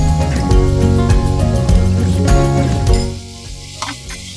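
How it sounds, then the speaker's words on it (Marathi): Fenugreek leaves and shelled green peas sautéed in a pan for methi matar pulao, a loud close sizzle with stirring scrapes and knocks throughout, easing off near the end into a quieter hiss with a couple of taps. "हे सोललेले मटारचे दाणे घालूया आणि तेही व्यवस्थित परतून घेऊया"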